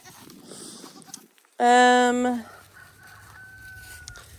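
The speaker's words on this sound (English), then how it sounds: "This brown goat right here is actually the mom that just gave babies." Goats on a small farm, including a brown nanny that has just given birth, let out one loud wavering bleat, with fainter calls and general barnyard noise before and after it.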